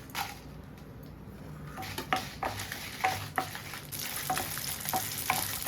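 Dried red chillies fry in a little oil, with a moderate sizzle under intermittent stirring clicks and scrapes of a utensil against the pan that grow busier toward the end.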